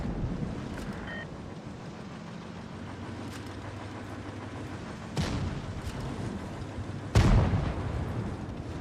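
Tank cannon shots penetrating enemy armor in the World of Tanks Blitz game, two sharp booming impacts a couple of seconds apart over a steady engine rumble, no talk.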